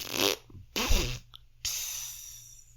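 A voice imitates farting, blowing several wet, sputtering raspberry bursts separated by short pauses, close and fairly quiet, with a faint breathy tail after the last one.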